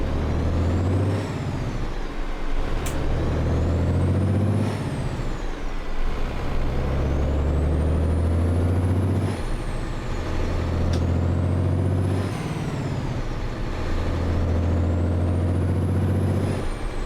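A Mack CHU 613 truck in American Truck Simulator rumbles steadily while repeated sharp air brake hisses sound at intervals over the low engine drone.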